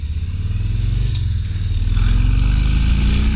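A 2023 Harley-Davidson Street Bob 114 accelerating hard, its low engine rumble building and rising in pitch as the revs climb, loud and close over wind rush, with no talking.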